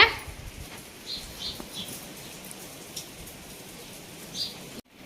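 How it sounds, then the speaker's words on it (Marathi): Continuous rain falls outside as a steady wash of patter and hiss, with a few louder gusts, before cutting off abruptly near the end. "दाखवते तुम्हाला बाहेर कस काय पाऊस चाललाय"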